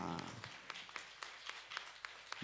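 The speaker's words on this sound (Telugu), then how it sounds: "గట్టిగా చప్పట్లు కొట్టండి" A church congregation clapping their hands during worship: steady, rhythmic claps at a moderate pace, fairly faint and diffuse, like a crowd clapping in time.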